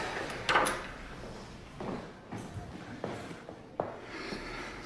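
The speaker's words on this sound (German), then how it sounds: "mach die Tür zu" An indoor door is pushed shut with a soft thud and latch click, followed by a few faint knocks and shuffling movements in a quiet room.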